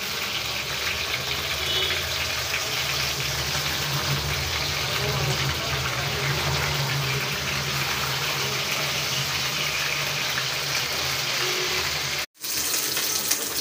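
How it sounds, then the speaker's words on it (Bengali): Fish frying in a pan, a close, continuous loud sizzle and spatter that runs steadily with a brief dropout near the end; no clear talking over it. "এই যে মাছটা দিয়ে দিলাম ফ্রাই করতে।"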